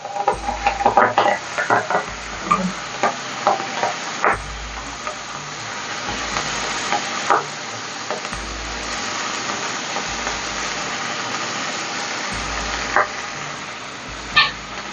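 Spring onions frying in oil with panch phoron give a low sizzle broken by repeated scraping and clinks of a spoon stirring the pan, fairly close, with quieter stretches between bursts.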